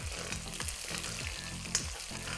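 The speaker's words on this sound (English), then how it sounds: "some fresh curry leaves, and stand back because they do splatter, the golden shallots" Fresh curry leaves and golden shallots fry in hot oil for a Mauritian fish curry, producing a loud, continuous close sizzle with sharp crackling pops and spits throughout.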